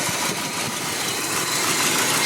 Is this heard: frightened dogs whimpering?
no